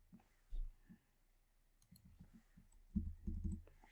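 Several soft, close clicks of a computer mouse come in short clusters, faint and dry against a quiet room.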